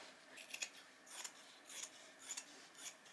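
Scissors slicing through old denim jeans being cut into skirt panels, five short crisp snipping bursts spaced evenly, close and fairly quiet with no talking.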